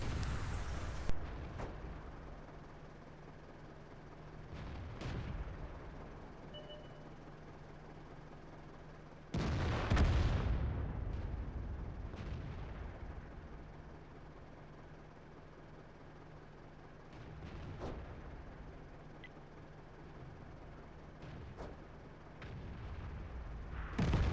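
An artillery gun fires in the video game World of Tanks. Several deep, booming shots ring out across a battlefield over a low engine hum, with one especially loud, close blast near the middle and fainter, more distant booms around it.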